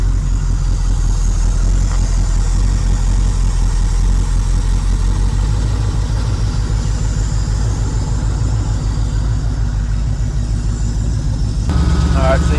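A car engine idles steadily while its ignition timing is adjusted, giving a loud, close, even rumble with a fast regular pulse, and a brief shift in tone near the end.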